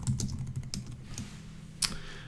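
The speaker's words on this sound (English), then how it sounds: "So let me type this out." Fingers type quickly on a computer keyboard in close, clattering bursts of keystrokes, with one louder key press near the end.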